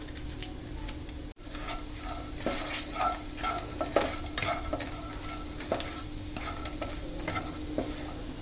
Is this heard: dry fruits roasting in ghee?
yes